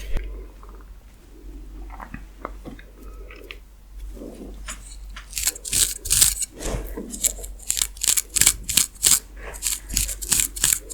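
Fingertips scratch and rub across a scalp between fresh braids, soft at first, then turning into dense, crisp, rapid scratching strokes close to the mic.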